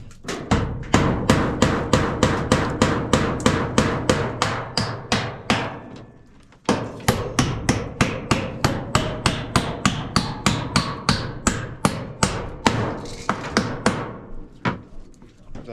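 Hammer nailing a replacement floor furnace into place, a long run of steady, loud, evenly spaced blows close by with a brief pause midway before the pounding resumes.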